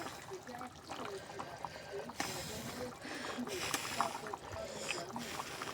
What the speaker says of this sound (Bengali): তরকারি ফুটে গেছে।